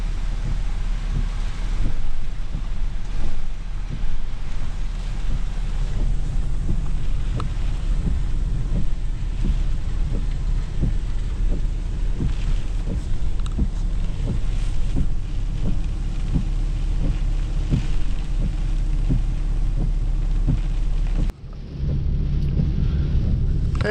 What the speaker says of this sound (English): Winds gusting up to 50 to 60 miles an hour.